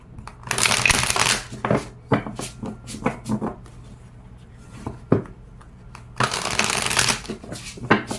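Tarot cards are shuffled up close in two longer riffling bursts, with scattered taps and soft card handling between them and no talk.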